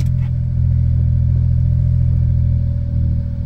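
A small Smart car engine idles and hums steadily at close range while put in reverse, a low continuous drone with a brief click at the start.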